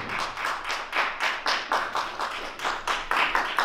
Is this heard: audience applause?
yes